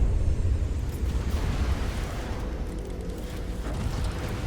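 In the vehicle-combat game From the Depths, shots from a Wendigo slam into a vehicle, making a dense, continuous roar of explosions that stays loud and rumbling throughout with no gaps.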